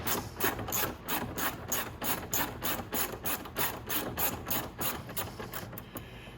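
Repetitive ratcheting and rubbing as a bolt is worked loose from the fairing of a Venom Motorsports eVader (E-X20), a steady run of short strokes, close and fairly quiet with no talk.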